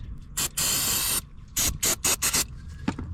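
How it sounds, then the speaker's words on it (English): Electrical contact cleaner sprayed onto the battery area of a 2013–2020 Subaru BRZ, in a short hiss, then a long burst of about half a second, then four quick bursts in a row, close and loud. "hit it with electric cleaner"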